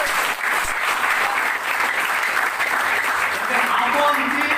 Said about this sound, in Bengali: এইসব নারীদের জন্য জোরে একটা করতালি হবে